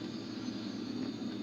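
A small airplane performing aerobatics at an airbase flyby drones steadily overhead, a sustained engine hum and roar holding even in level, no talk over it.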